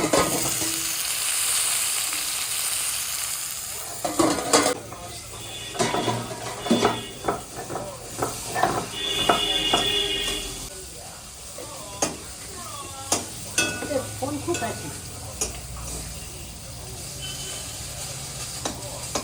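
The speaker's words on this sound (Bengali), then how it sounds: "সেটাই বাড়ছে, সর্ষে শাক রান্না করা হবে।" Mustard greens fry in a pan with a constant sizzle and hiss, while a utensil repeatedly scrapes and clinks against the pan in short bursts of stirring.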